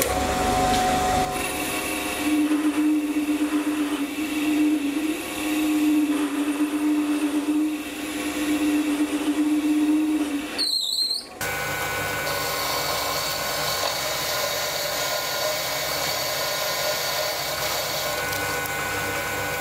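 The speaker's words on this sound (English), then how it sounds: "it's cutting really well for a high-speed steel tool in this lathe" A lathe cutting steel with a high-speed steel tangential tool runs with a steady whine and a sustained cutting tone, then a brief harsh clatter before the machine hum continues alone.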